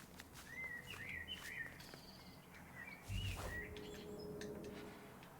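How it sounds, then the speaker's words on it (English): Chirps and short tweeting calls from a bird in the video game The Last Campfire, quiet and scattered over a soft ambient forest bed. "Hello, bird."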